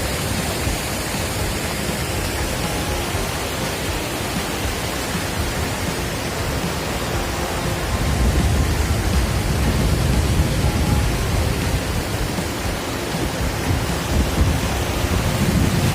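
Steady, dense roar of water overflowing and pouring over the Nadhiyunni dam toward the Thamirabarani river, broadband and continuous, growing slightly heavier and deeper partway through; no voices.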